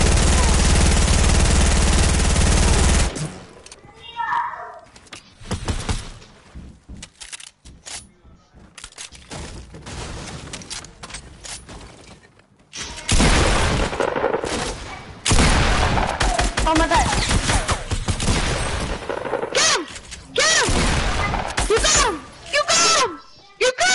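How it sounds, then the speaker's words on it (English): Enemy gunfire in a video game: repeated loud volleys of shots in several long stretches, mixed with busy game sounds and an excited player's voice talking over the action. "He's shooting at me!"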